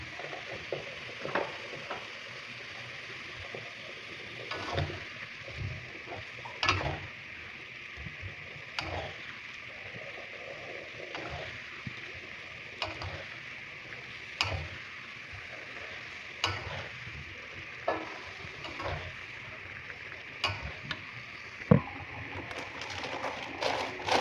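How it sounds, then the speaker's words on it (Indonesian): Fried fish and eggplant go into a pan of sizzling oil with ginger and are stirred, giving a steady frying hiss broken by regular scraping and clattering knocks of the utensil against the pan. "selanjutnya aku mau memasukkan ini dia, ikan sama terongnya yang udah digoreng"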